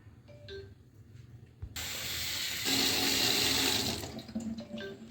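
Tap water gushes steadily into a sink as bitter gourd is rinsed for a home-style curry, a loud close hissing stream that starts abruptly and runs for several seconds before easing, with no talk.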